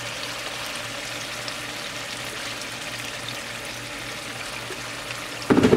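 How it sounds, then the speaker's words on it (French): Water pours steadily into a pan of simmering sauce for pangasius fish, a continuous close splashing flow lasting several seconds, ending with a brief louder sizzle or clatter. "Et puis, je vais rajouter un peu d'eau."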